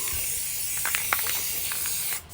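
Spray paint hisses in a steady stream, broken by a few short sputtering bursts, close up and with no voices.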